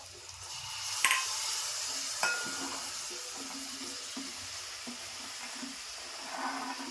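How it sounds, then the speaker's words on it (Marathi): Vegetables are tipped into a softened onion-tomato masala and stirred, giving a faint, steady sizzle with occasional light clinks and scrapes of a spoon against the pot. "तर आता मी भाज्या टाकून घेते."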